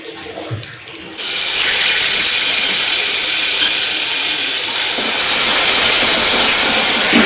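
Yogurt-mixed masala and a little oil sizzle for tempering: after a brief quiet moment, a sudden loud, continuous hissing sizzle starts up close and keeps going strongly.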